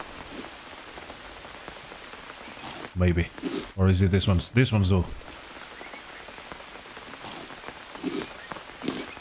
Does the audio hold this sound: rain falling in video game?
yes